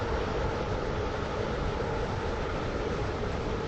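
Passenger train on the Waterline service running between stations, a steady, even rumble and hiss of wheels and carriage noise with no breaks or voices.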